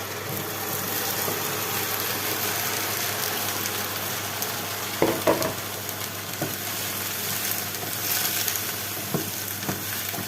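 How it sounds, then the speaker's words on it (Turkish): Broccoli sizzles as it hits a pan of sautéed carrots and onions, a steady loud frying hiss throughout with a few stirring clanks and pops midway. "Şimdi brokolilerini ilave ediyorum arkadaşlar."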